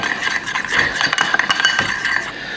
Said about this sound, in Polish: Mieszamy, wlewamy do ogórków.